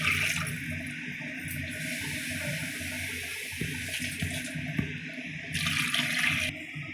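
Water gushes in a continuous stream into a cooking pot being filled for vegetable biryani rice, loud and close, with a brief pause near the middle before the pouring swells again.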